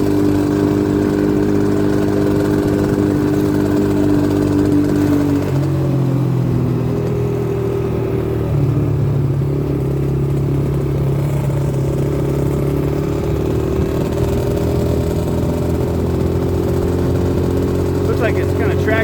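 A SYX Moto 50cc motorcycle engine idles after carburetor cleaning, its small motor buzzing steadily and close with a slight wavering in pitch for the whole stretch.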